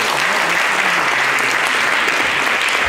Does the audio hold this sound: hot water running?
no